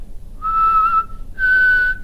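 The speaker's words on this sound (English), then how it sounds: "I'll whistle for him." Someone whistles two sustained notes, the second slightly higher, loud and close with a short pause between them.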